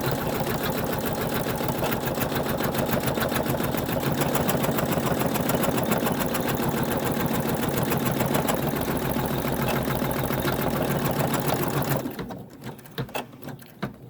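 An embroidery machine stitches a 3D in-the-hoop star ornament in a fast, even mechanical rhythm for about twelve seconds, close and loud, then stops, leaving a few faint clicks.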